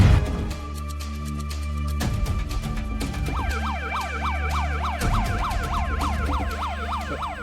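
An ambulance siren wails in a fast, rising-and-falling yelp over a steady background rumble, growing louder as the vehicle approaches, with no talking.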